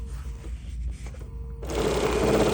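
A sewing machine stitches the seam of a beach tote bag, starting after a quiet pause with a loud, steady, close whir that runs on to the end.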